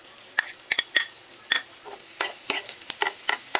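Hotdog and ground meat cook in a pan with onion and garlic, giving a soft steady sizzle broken by irregular scraping and clinking as a utensil stirs against the pan.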